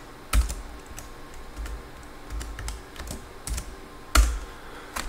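Fingers tap steadily on a computer keyboard at a mainframe terminal, close and fairly quiet, with a few louder key strikes standing out from the run of soft clicks.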